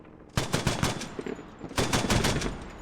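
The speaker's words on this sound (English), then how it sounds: "that grenade launcher, the 40 mil grenade launcher just laying into the barn" Rapid bursts of 40 mm grenade launcher fire in a video game battle in Gorodok, two loud clusters of sharp reports in quick rhythm with a brief lull between them.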